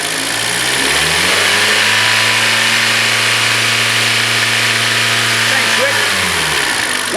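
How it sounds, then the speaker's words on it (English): A car engine on the test bench revs up from idle to a steady high speed and holds there for an alternator check, loud and close, then drops back toward idle near the end. "just going to bring the engine speed up for me"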